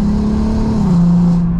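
Volkswagen Golf R MK7 with a Stage 2 tune revs hard and loud, its engine holding a steady, strained howl that drops slightly in pitch partway through and stays sustained to the end, with no talking.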